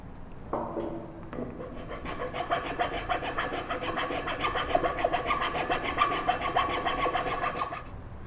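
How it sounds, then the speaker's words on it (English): A file rasps back and forth in a tapered wooden mortise for a spindle stool, making a rapid, steady series of gritty strokes. The scraping is close and continuous, with a few knocks as it starts and no talk. "then you can go ahead and file those down to get to the final size"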